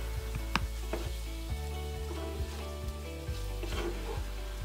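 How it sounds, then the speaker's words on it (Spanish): Diced potatoes frying in a generous splash of oil in a pan over medium heat, a steady close sizzle with occasional scraping and clinking as they are stirred. "en una sartén con un buen chorro de aceite las ponemos a calentar a un fuego medio durante unos 25 minutos"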